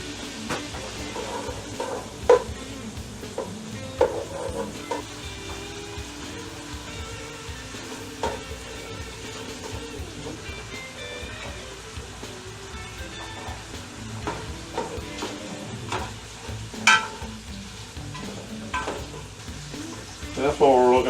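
Chopped onions and smoked sausage sweat and sizzle in a pan. The frying hisses steadily throughout, with occasional stirring scrapes and clinks against the pan and no talk.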